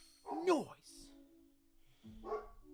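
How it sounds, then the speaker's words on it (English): A dog barks a couple of times nearby, short sharp yaps separated by a pause, with a faint hum in the background. "You guys hear Kevin barking"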